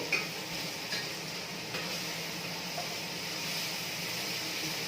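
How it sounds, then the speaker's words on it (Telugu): Food sizzles steadily as it fries in a pan in a home kitchen, with a few light clinks of a spoon stirring it. "చూడండి ఫ్రెండ్స్, ఇలా ఫ్రై అవుతూనే ఉండాలి"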